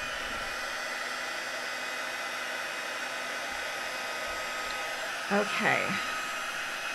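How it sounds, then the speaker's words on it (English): Heat tool blowing steadily to melt embossing powder on a card, a constant loud whooshing hiss throughout, with a brief spoken word near the end. "I'm just melting the embossing powder"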